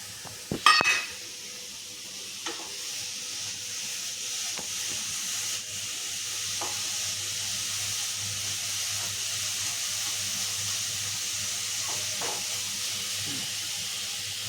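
Garlic and ginger frying in a pan for a Maharashtrian thecha, a steady soft sizzle and hiss running throughout, with a few brief clinks of a spoon or pan near the start.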